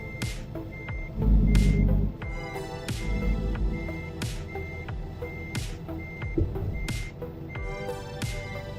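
Truck reversing alarm in American Truck Simulator, a steady series of evenly spaced electronic beeps sounding over a low engine rumble while the truck backs up, with a brief louder thump near the start.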